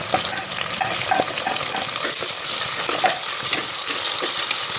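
Chopped onions hit hot oil in a pan for egg biryani, raising a loud, continuous sizzle and crackle with occasional stirring scrapes throughout.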